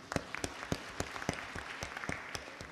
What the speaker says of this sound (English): You are warmly welcome with a round of applause.